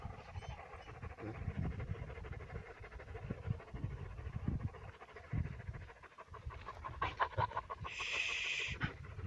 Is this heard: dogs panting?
yes